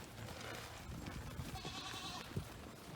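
Sheep bleat at morning grain feeding, one clear drawn-out bleat in the middle over a busy, rustling farmyard background, fairly close but quiet.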